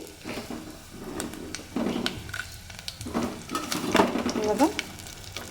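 Curry leaves, cumin and fenugreek sizzle and crackle in hot oil, with spatters and scraping stirs against the pan up close at a moderate level.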